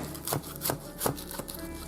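A utensil cutting down into a pot roast casserole, four soft, evenly spaced scraping knocks against the dish, quiet and close.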